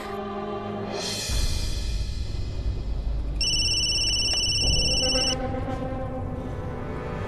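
A telephone rings in a Hindi TV drama scene, a steady electronic bell tone that holds for about two seconds over a low background rumble.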